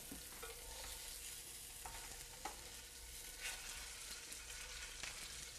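Miso-glazed fish sizzles in a pan with a steady, soft crackling hiss, broken by a few brief clinks and scrapes of stirring. The sound is faint and there is no talk.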